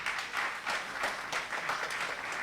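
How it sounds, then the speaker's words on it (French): An audience at an election commission event in Kinshasa applauds, a dense, steady patter of many hands at moderate distance that carries on without a break. "Je vous prie d'applaudir davantage."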